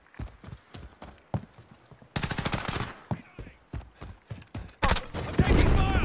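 Gunfire in the Call of Duty Modern Warfare video game: scattered single shots, then loud rapid bursts of automatic fire in several volleys, the heaviest near the end.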